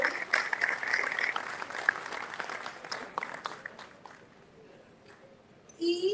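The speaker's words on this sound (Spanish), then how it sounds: "Vamos a darle un fuerte aplauso." Audience applause at an anniversary celebration for a Navistar plant in Escobedo, brisk crowd clapping that gradually thins and fades over several seconds, before a voice returns at the end.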